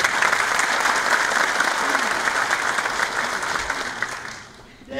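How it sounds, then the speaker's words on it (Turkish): Seminar audience applauding the company Karel, sustained dense clapping from a large crowd that fades out near the end. "Karel'i hep birlikte alkışlıyoruz"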